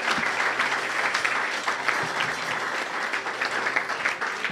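A church congregation bursts into sustained applause acclaiming the Lord, a dense, steady clapping from many hands in a large room, close and fairly loud throughout.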